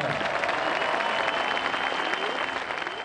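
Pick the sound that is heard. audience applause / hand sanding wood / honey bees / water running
audience applause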